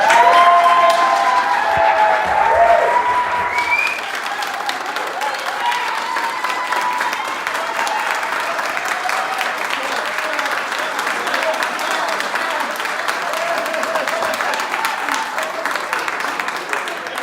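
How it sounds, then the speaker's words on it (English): Staff at a telecommunicators award ceremony get a round of applause, with dense clapping and a few cheers from the crowd, steady and strong from start to finish. "let's give her, Teron, Pedro, Michelle a round of applause for what they did tonight"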